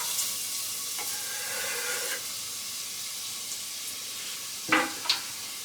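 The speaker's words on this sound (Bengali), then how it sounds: "পেঁয়াজটা একটু ভেজে নিয়ে টমেটো কুচো দিয়ে দেবো" Chopped onion fries in hot oil with a soft, continuous sizzle and hiss, close by, broken near the end by a couple of quick clatters.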